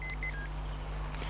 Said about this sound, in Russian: Когда переходит из режима в режим, он просто один раз пикает, а тут вот постоянно.